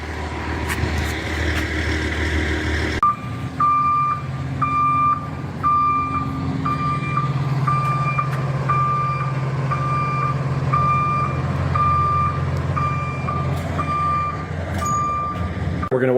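A delivery truck backs up at a driveway construction site, its reversing alarm beeping in a steady, evenly spaced series over a low engine rumble, starting a few seconds in and continuing loudly to the end.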